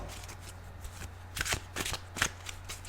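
Tarot cards being shuffled by hand, a few quick riffling bursts of papery flutter and snaps close by, fairly quiet with no talking.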